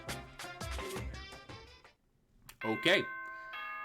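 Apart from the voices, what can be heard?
doorbell chime in Danganronpa video game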